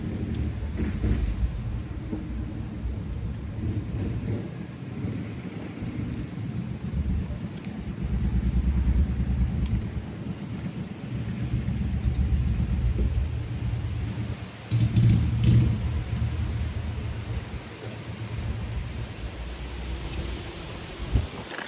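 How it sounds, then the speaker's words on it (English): Steady rain hisses under deep rolling thunder, with low rumbles swelling and fading and a louder crack partway through; no voices. "It's raining."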